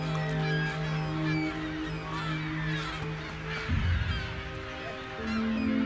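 Dense chorus of American white pelicans at a breeding colony on Gunnison Island in the Great Salt Lake, low honking and grunting calls overlapping continuously with no talk.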